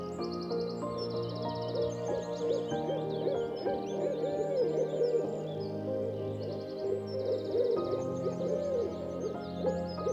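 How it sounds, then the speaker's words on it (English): An owl hoots in repeated soft, rounded calls at a steady pace, moderately near, over a continuous background of music and faint chirps. "Owl. It's an owl."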